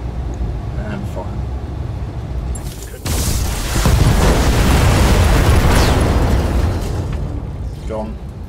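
Battlemech weapons fire and explosions in BattleTech, a sudden loud blast followed by a long roaring rumble of fire and debris, with talk over the quieter start.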